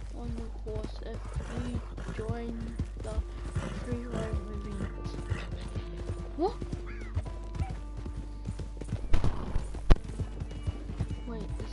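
Horse hooves clip-clop steadily in a video game, with occasional whinnies, under someone talking throughout and a constant low background hum.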